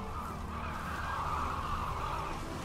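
A crow calls in The Witcher 3, giving a steady, hoarse, drawn-out cry that holds at a fairly even level for a couple of seconds over a dim game ambience.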